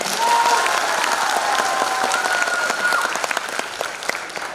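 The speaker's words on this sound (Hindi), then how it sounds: "एसएम साहब की टीम एक बार तालियां" An audience at a corps day celebration claps for a team in a steady, dense round of applause lasting several seconds, tapering a little near the end, with a faint murmur beneath.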